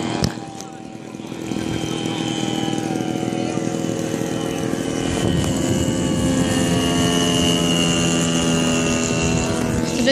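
A propeller warplane engine in a flight video game runs up for takeoff on a runway, a droning roar that swells after a quieter start and then holds loud and steady.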